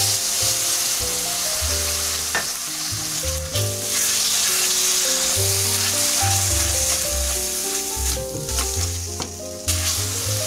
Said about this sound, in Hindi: अब ग्रेवी बनाने के लिए इसमें थोड़ा सा दूध डालेंगे